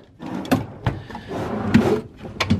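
A drawer in a teacher's classroom desk slides open or shut with several short wooden knocks and rattles of loose contents, close and moderately loud, with no talking.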